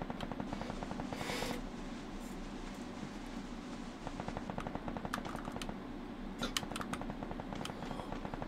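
Rapid gunfire from the mobile battle royale game Free Fire sounds in fast repeated bursts over a steady background of game noise. The shots are fairly faint and there is no speech.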